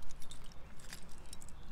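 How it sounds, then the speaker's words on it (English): A brand-new set of keys jangles close by in a continuous metallic rattle that lasts under two seconds, with no talking over it. "and I have complete new set of keys"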